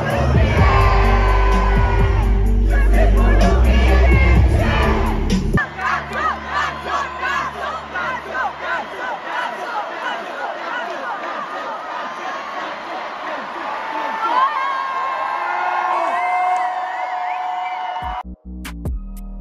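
A huge concert crowd at an artist's show sings and chants loudly in unison in his place, a dense roaring mass of voices with rhythmic swells and yells that stays strong throughout.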